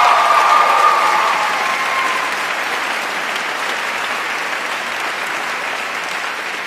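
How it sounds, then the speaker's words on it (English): Audience at the 2015 Soka University of America commencement ceremony claps in a dense, sustained burst that starts strong and then settles into a steady, slightly softer wash of applause, with no voices over it. "that is not enthusiastic clapping for our sisters"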